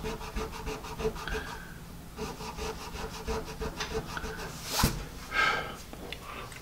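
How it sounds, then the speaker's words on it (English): A pencil's eraser, set in a chrome ferrule, scrubs back and forth on paper in quick, close rasping strokes, with one louder scrub near the end. "let's see how the eraser does"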